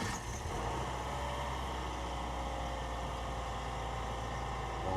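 Stock-exhaust Subaru WRX STI engine settling into a steady idle after a cold start, a continuous low rumble that stays even and close throughout with no talking.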